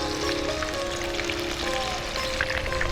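Chicken pieces for masala fried chicken deep frying in hot oil, a steady close crackling sizzle that runs without a break, with faint tonal hum in the background.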